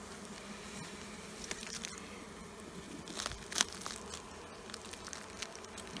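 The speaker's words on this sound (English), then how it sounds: "Completely full of bees." Honey bees in a hive packed full of bees produce a steady, dense low buzz throughout. A few soft crackles and taps rise above it, and no one speaks.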